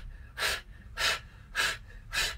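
Four loud, even breaths come in steady rhythm, each a broad rushing puff close to the mic, during ab exercises in a workout routine.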